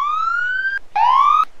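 A wailing ambulance siren from the Emergency 4 Montana mod rises in pitch, breaks off briefly, then starts a second sweep, loud and close with no talk over it.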